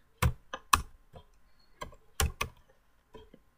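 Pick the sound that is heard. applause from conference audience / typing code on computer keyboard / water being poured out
typing code on computer keyboard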